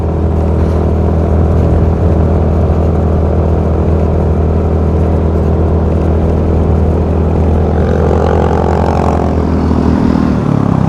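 A motorcycle engine labours up a long, very steep climb during a group fellowship ride, droning loud and continuous at close range, its pitch shifting as it strains near the end.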